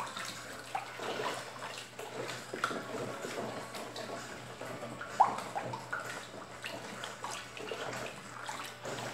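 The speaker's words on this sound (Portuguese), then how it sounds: "A gente vai colocar mais um pouquinho de água assim, tá?" Water being poured into a soap-making mixture of baking soda and coconut oil, a continuous splashing trickle with small clinks and bubbling, close by and moderately quiet with no voice over it.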